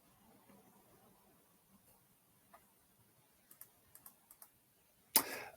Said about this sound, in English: I see a few people typing.